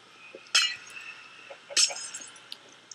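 Glass blocks broken in the Minecraft video game: two sharp crystalline shattering clinks about a second apart, with fainter tinkles around them and no one speaking.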